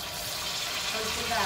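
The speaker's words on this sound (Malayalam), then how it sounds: "മാവ് റെഡി ആയിട്ടുണ്ട്, വെളിച്ചെണ്ണ ചൂടായിട്ടുണ്ട്, നമുക്ക് കോരി ഒഴിക്കാം" Unniyappam batter ladled into hot coconut oil, giving a close, continuous hissing sizzle that holds steady for a moment with no talk.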